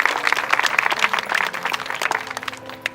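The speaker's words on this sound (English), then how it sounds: "let's give him a round of applause for that too" Outdoor crowd applause at a butterfly memorial unveiling, a brief burst of dense clapping that stays fairly loud and thins toward the end.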